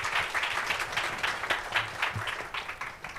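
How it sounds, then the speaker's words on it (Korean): Audience applause welcoming speakers at the SOVAC 2022 climate-tech investment session, a dense, steady wash of many hands clapping at moderate volume with no talk over it. "박수로 맞이해 주시기 바랍니다."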